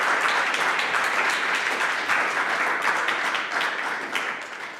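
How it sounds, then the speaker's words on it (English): A large audience at a developer talk claps steadily and densely, a sustained wash of applause that tapers slightly at the end. "And now it's time for you to clap your hands."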